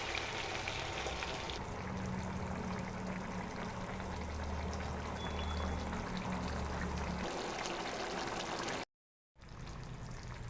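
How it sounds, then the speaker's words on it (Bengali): A little water pours into a pot of chicken curry, producing a steady splashing rush that runs for several seconds, followed by a faint sizzling bubble and a brief moment of silence near the end. "সামান্য অল্প জল দিয়ে দেব,"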